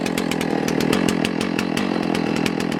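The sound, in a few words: chainsaw cutting a log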